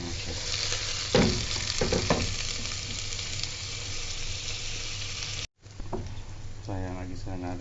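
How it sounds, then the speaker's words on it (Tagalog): Garlic and ginger sautéing in a pan for a Filipino mussel stew, a steady loud sizzle with scraping stir strokes, a brief cut, then a voice talking over the frying. "So ayan, nagisa natin yung garlic."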